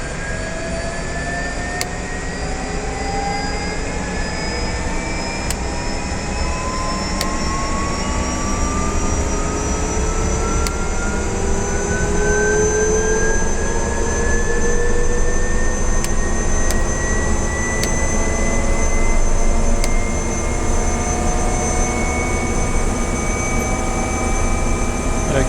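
Bell 407 helicopter turbine engine running steadily in Microsoft Flight Simulator, a continuous loud whine with rising tones over a broad rumble, heard alone with no talking.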